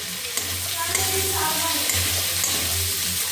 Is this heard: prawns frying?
yes